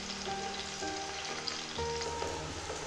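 Large onions fry steadily in oil in a pot, a dense continuous sizzle with soft stirring scrapes and faint clinks, close up and without speech.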